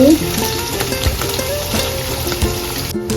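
Sliced onions fry in hot oil for a Malabar chicken biryani, giving a dense, steady sizzle close by with a few soft stirring knocks and no talk.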